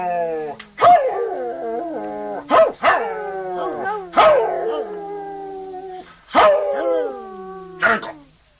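People mimic a dog with their voices, trading loud drawn-out howls and sharp barks in about six bursts with short pauses between them.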